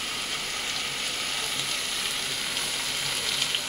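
Country chicken sautéed in spices in a pan gives off a soft, continuous sizzling hiss, fairly quiet and even, with no talking over it.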